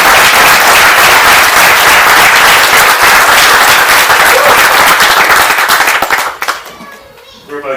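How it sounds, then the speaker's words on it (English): Wedding reception guests applauding loudly, a dense burst of clapping with cheers and children's voices that fades out after about six seconds. "Can we have a massive round of applause?"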